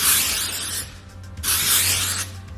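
Two bursts of aerosol hairspray from a can of Down and Out Dirty Spray texture spray, misted onto short hair for a beachy wave style; each hiss lasts under a second, close and fairly loud, with a brief pause between them.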